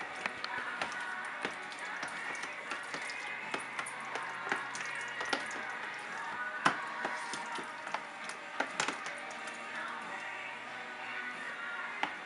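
A rib marinade is stirred in a bowl, a steady wet clatter of light taps and squishy clicks continuing close by for several seconds, with no voices.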